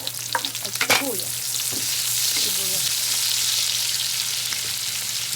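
Garlic and onion sautéing in hot coconut oil for a vegetable dish, a steady broad sizzle running throughout with a few clinks of stirring early on and faint background voices.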